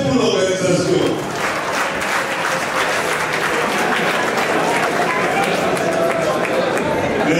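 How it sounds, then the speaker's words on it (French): A crowd at a political gathering applauding the organisers, dense loud clapping mixed with cheering and crowd voices, sustained throughout without pause. "Pour cela, applaudissez pour l'organisation"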